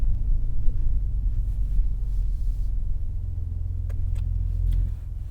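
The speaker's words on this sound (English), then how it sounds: "I think you should give it a couple revs while I'm standing behind it." Mercedes-AMG GLE 53 engine revving from behind the car, a deep steady rumble held for several seconds before easing off near the end.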